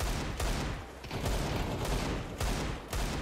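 Desert Eagle pistol fire in the game CS2, a few loud sharp shots spaced out over a few seconds, close and dominant with no talking.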